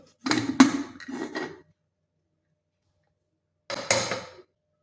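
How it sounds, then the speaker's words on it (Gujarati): A cooled pressure cooker's metal lid is opened after making Gujarati vaghareli khichdi, with a loud close clatter of metal scraping and clanking, a pause of silence, then another short metallic rattle. "આપણે કુકરને ઠંડુ થવા દઈશું ત્યારબાદ આપણે ખોલીશું આપણું કુકર"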